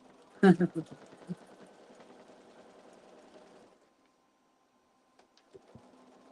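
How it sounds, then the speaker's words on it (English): A domestic sewing machine stitches fabric for a frilled ladies' top in a quiet room, running in a steady close mechanical whir for several seconds before stopping, followed by a few faint clicks. "it's sewing very nicely, my machine tonight"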